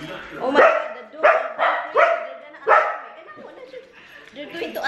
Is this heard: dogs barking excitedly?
yes